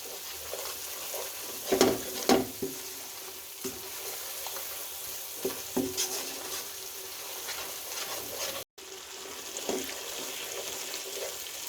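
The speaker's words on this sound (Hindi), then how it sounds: "मिक्स करेंगे और अच्छे से इसकी 2 मिनट भुनाई कर लेंगे।" Spices mixed with cashew and almond powder being stirred and roasted in a pan for kofta curry, with a faint sizzle under scattered scraping and clattering spoon strokes, a few louder knocks, and no talk.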